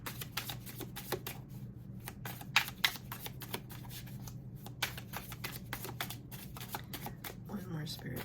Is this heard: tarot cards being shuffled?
yes